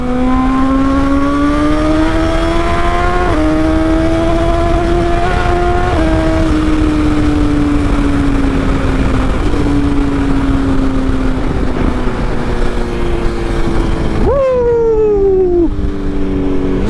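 A BMW XR motorcycle engine runs steadily and loud, its pitch rising and falling with gear changes and throttle, then dropping sharply as the revs fall near the end.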